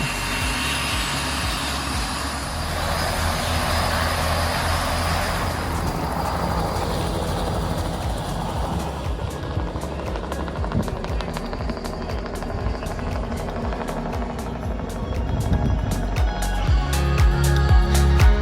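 A loud helicopter drones continuously nearby at a remote island location, with a low rumbling engine and rapid rotor chopping growing more pronounced toward the end.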